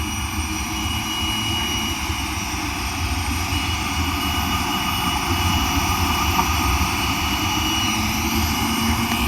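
A jet car's engine roars steadily at a drag strip with a loud, sustained broadband rush and a high whine, no voices, the sound holding strong throughout.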